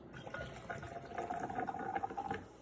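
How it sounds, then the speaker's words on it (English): Mountain Dew Baja Gold, a pineapple-flavored soda, is poured into a glass, giving a close, quiet gurgling fill with fizzing bubbles that rises slightly in pitch as the glass fills, heard alone for a few seconds. "let's pour each other a glass"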